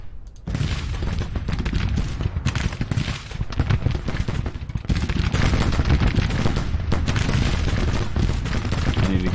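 Musketry and artillery thunder across a Civil War battlefield in the strategy game Grand Tactician: The Civil War, a loud, unbroken wall of crackling volleys and deep booms lasting the whole stretch.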